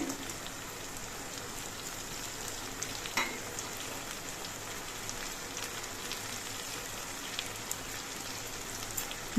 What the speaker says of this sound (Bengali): এবার এর মধ্যে আমি ভাজা মাছগুলো দিয়ে দিচ্ছি